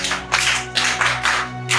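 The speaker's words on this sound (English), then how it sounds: "now there's a way I want us to clap" A school media club of students claps together in a patterned rhythm, bursts of hand claps repeating roughly every half second in a small studio, close and unified with no talk.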